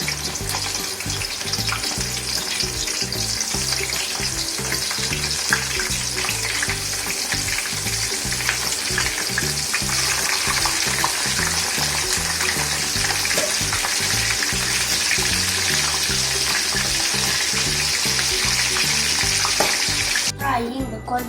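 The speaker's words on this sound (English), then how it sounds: "so now we will just fry the cauliflower" Cauliflower frying in hot oil makes a steady, loud sizzle that runs unbroken from start to end, with faint stirring and clatter mixed in.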